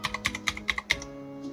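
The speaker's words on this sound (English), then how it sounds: "this is what your regular keyboard sounds like." Typing on an ordinary computer keyboard: about six quick, crisp key presses in an even rhythm, close and moderately loud, followed by a brief quiet tail with no voices.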